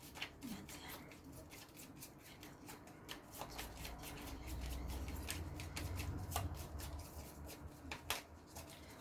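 Tarot de Marseille cards being handled and shuffled, quiet papery flicks and rubs in quick irregular bursts, close and faint, with no voices.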